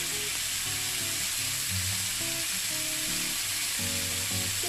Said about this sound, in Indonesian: Ayamnya digoreng.